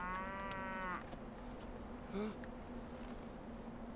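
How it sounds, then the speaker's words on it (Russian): An old villager's cow in a wartime rural setting gives a single fairly close moo lasting about a second, followed by the faint buzzing of flies and a brief second low call in a quiet background. "Старик, твоя корова,"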